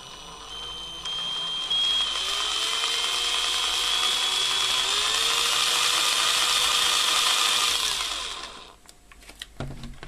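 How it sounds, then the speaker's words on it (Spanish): A power drill whines steadily for several seconds, pitch rising slightly as it bores holes for mounting an ESR meter in a case, then stops, followed by a few handling clatters. "taladraremos los agujeros."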